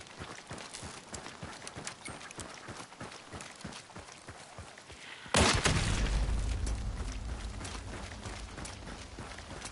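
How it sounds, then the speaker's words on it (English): Horses in the video game Hunt: Showdown near an extraction point: a steady, quick clopping of hooves, then a sudden loud burst of noise that lingers and slowly fades. "the horses will already be making noise if is more than one team at an extraction"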